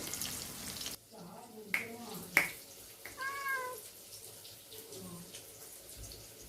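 Simba, a pet cat, gives a few short, clear meows close by in a kitchen while prawns fry, Konkani style. Someone talks quietly over a low sizzle or running-water hiss.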